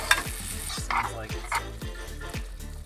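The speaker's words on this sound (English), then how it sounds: "Now we stir." Food seasoned with cheese, salt, grilling seasoning and milk is stirred in a pan, giving repeated close scraping and soft sizzle over a steady rhythmic thumping in the background.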